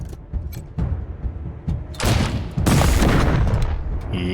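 Rockets launch and detonate in the game Wasteland 3, a series of loud booming blasts that build into sustained roaring explosions, close and heavy, with no voices.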